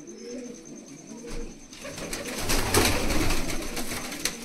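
Malwai pigeons cooing, a soft low bubbling coo that builds through the middle and sits close, with background noise and occasional louder bursts.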